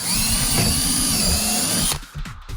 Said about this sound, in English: I got a 1/4-inch drill bit going right here with the hole.